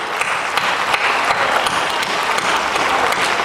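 Dense, steady applause from an audience at a poetry recital during an Arya Virat Mahakumbh poets' gathering in Sirsaganj, filling the space with close, continuous clapping without pause.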